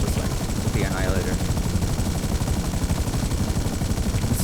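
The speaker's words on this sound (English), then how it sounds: "This is a lighter, more maneuverable helicopter." A helicopter flying in GTA Online, its rotor and engine a loud, dense, unbroken drone, with faint gunfire mixed in and a person talking briefly underneath.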